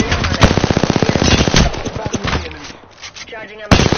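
Rapid automatic gunfire in Apex Legends rattles in a dense burst of loud, evenly spaced shots for about two seconds, then fades into scattered impacts before a final sharp blast, with game voice lines over it.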